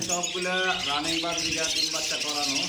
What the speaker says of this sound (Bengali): এখানে তো অসংখ্য পরিমাণে বাজরিগার পাখি দেখা যাচ্ছে